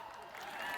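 A brief burst of audience applause at the Grinnell College 2021 commencement ceremony: dense, steady clapping from a crowd, held at an even level for under a second.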